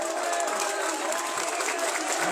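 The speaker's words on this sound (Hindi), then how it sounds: "जोरदार तालियां" Applause at a Hindu religious gathering of saints and community members at a sit-in protest to save khejri trees in Bikaner, a dense, steady wash of clapping from a crowd, loud and continuous throughout.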